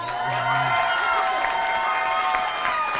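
Steady crowd noise with cheering and scattered clapping, a dense continuous roar of many people at moderate distance.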